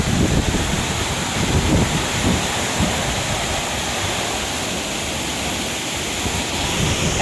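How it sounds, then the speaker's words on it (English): The Tamanique waterfall in El Salvador roars as a steady, dense wash of falling water, close and continuous with no pauses, and a little wind buffeting the microphone. "Wow, look at this waterfall."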